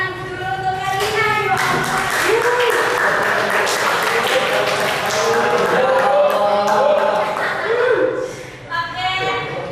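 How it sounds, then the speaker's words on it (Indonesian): A school audience claps and cheers loudly for about ten seconds. Voices call out and laugh over the continuous applause, which thins briefly near the end before picking up again. "tepuk tangan dulu untuk Karina."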